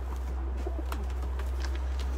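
Racing pigeons cooing softly inside a loft over a steady low hum, with a few soft coos spread through the moment and no talking.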